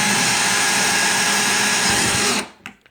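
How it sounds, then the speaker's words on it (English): A power drill boring holes into a wooden coffee table, running as a loud steady whine for over two seconds before stopping abruptly and leaving a few faint knocks. "it's actually really easy to drill holes"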